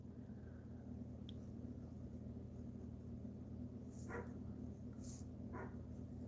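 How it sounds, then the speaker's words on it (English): A puppy next door gives a few faint, distant barks over a steady low room hum, with short yelps spaced a second or so apart. "I don't know if you can hear the puppy next door"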